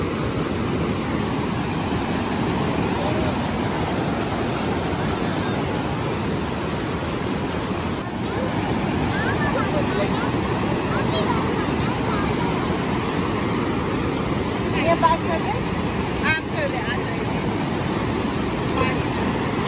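Niagara Falls white water roars in a steady, loud, unbroken wash of rushing water that fills the whole scene without letup.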